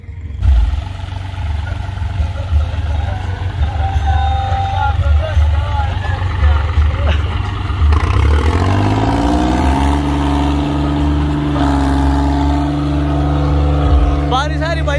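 A heavy tractor engine roars and revs continuously in deep mud in a field, rising in pitch as it strains, with people talking over it.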